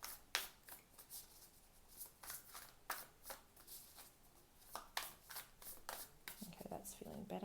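A tarot card deck is repeatedly shuffled by hand, with close, crisp bursts of riffling cards in an uneven rhythm and a voice speaking alongside.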